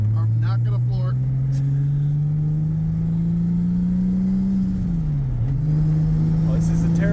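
A Nissan 240SX with a big-turbo RB25 swap drones at a steady, slowly climbing rev, dips briefly, then holds again. Worried voices talk over the engine inside the car.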